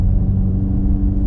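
A Hyundai i30N hatchback in N mode holds a loud, deep, steady engine and exhaust drone with a low rumbling tone, heard close and alone for a brief moment.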